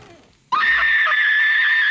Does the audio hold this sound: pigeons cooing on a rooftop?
no